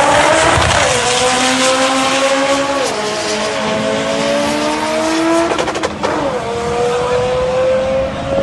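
A turbocharged 1991 Mitsubishi Eclipse drag car on a dyno revs hard in loud, continuous pulls, the engine pitch climbing, dipping at shifts near three and six seconds, then rising again.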